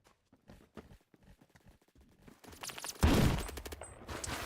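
Gunfire in the video game Phantom Forces: scattered soft shots at first, then a loud burst of rapid automatic fire that keeps going to the end.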